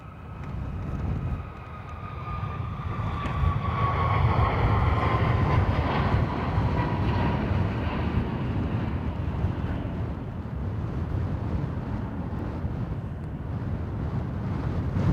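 An aircraft at Dublin Airport taking off from runway 28 right, a broad roaring engine rumble with a slowly falling whine, steady and loud throughout the whole stretch.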